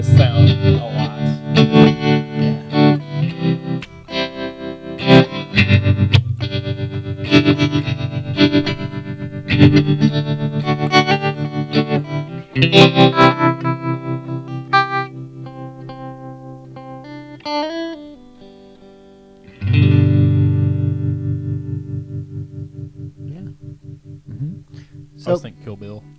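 Electric guitar with a pulsing tremolo effect plays chords and riffs, the volume throbbing rhythmically, with one long sustained chord that slowly fades near the end.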